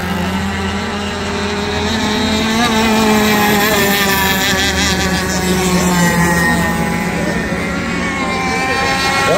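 Gas-powered 1/6 scale RC racing boats run a heat at the Dean Chenowith Memorial in Ellensburg, Washington, several loud buzzing engines whining together with overlapping rising and falling pitches, sustained and close.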